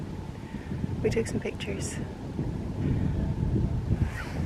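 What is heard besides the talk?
strong wind on a hilltop, Isle of Skye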